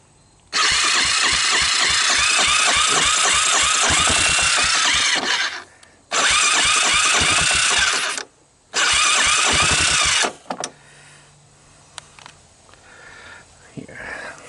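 A Honda ATC250ES Big Red ATV, an auction three-wheeler, is cranked in three loud rattling bursts of a few seconds each, separated by short pauses, then falls quiet with faint handling noises.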